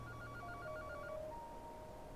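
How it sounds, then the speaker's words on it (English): A telephone rings in a repeating electronic warble of short pulsed tones, fairly faint over a low steady background hum, fading out after about a second and a half. "All of a sudden, you hear a phone ring."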